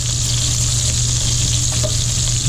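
Sausage and shrimp for paella frying loudly in a pan, a dense continuous sizzle and crackle that fills the space, close up with no talk, while pieces are turned over.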